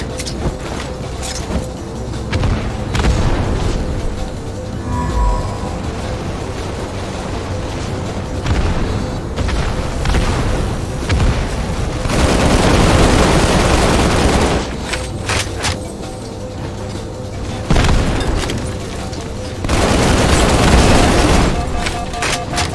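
Grenade blasts and rapid gunfire from Halo 2 multiplayer, a loud continuous barrage of shots and booms with heavier explosive bursts around the middle and near the end, no talk.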